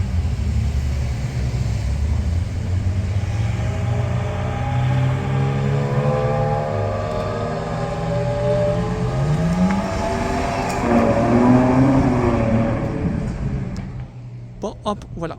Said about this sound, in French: il y a deux Ferrari qui vont partir